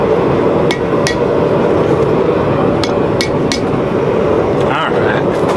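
Sharp metallic hammer strikes ring out at irregular intervals while forging a two-piece spring fuller, several clanging blows over a steady background roar.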